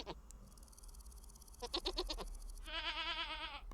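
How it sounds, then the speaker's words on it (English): Goats in the video game Vintage Story let out a brief high cry, then a pulsed stuttering bleat, then a longer wavering bleat at the end, all fairly close over quiet game ambience. "Goats are weird."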